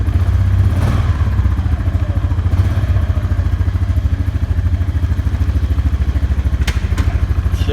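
Honda Foreman 520 ATV engine, a 2022 model, running close and loud with a fast steady putter and mechanical clatter, plus a couple of sharp knocks as gears shift.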